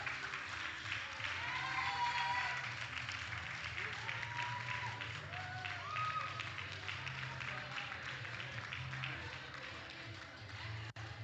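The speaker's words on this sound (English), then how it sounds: "Give them a big round of applause" Audience applause at a 2023 NAPF regional championship session in the Cayman Islands, a dense patter of clapping running under a loudspeaker voice and background music, gradually thinning toward the end.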